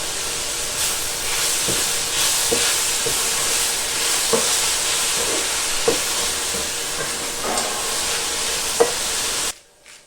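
Onions fry in a hot pan with a steady, bright sizzle and hiss, punctuated by the occasional light clack of stirring, then cut off abruptly near the end.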